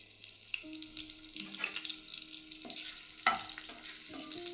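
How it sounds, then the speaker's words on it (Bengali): Potato pieces fry in hot oil with bay leaf in a pan, giving a steady close sizzle with occasional stirring scrapes, under a soft background melody and with no talking. "আলুটা একটু ভাজা হোক।"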